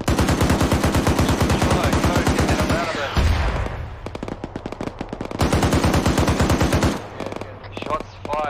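Machine gun fire in the military shooter Arma 3: two long, rapid automatic bursts ring out close and loud, separated by a short lull of quieter distant shooting.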